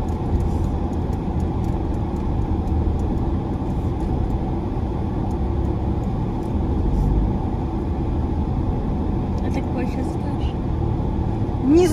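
A car circling its way up out of an underground parking garage in Marseille from level minus seven, with a steady low engine and road rumble and a voice heard faintly over it.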